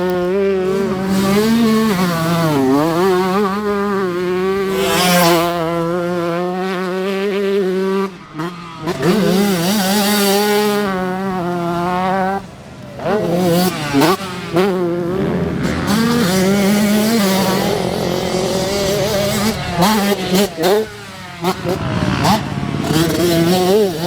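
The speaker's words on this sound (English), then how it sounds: "let's go have some fun on this two-stroke." A Fantic 125cc two-stroke motorcycle is ridden hard, its engine revving up and down through the gears with a buzzy, high-pitched wail, loud and close, with short drops off the throttle.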